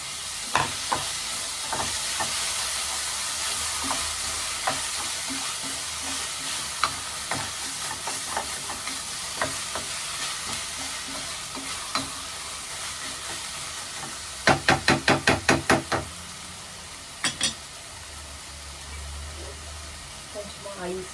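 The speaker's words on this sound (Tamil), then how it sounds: "நல்லா பச்சை வாசனை போகிற அளவுக்கு வதக்கலாம்." Tomatoes sauté in hot oil with a steady sizzle throughout, joined by scattered spoon scrapes and a brief burst of rapid stirring clatter near the end, with speech faintly present.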